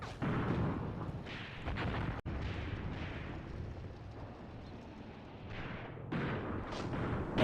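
Artillery strikes rumble through a WW2 Soviet-versus-German video game battle, a continuous heavy barrage of deep booms and rolling blasts that swells and fades, with one sharp cut midway and no talking.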